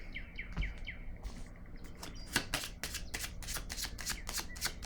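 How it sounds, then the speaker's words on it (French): Tarot cards are shuffled and handled in a rapid run of crisp riffling, flicking snaps that build into a dense flurry near the end, while faint bird chirps sound early on and no one speaks. "Je vais déposer une autre carte ici."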